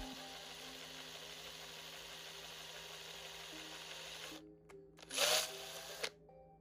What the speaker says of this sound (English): just drill about another millimeter further in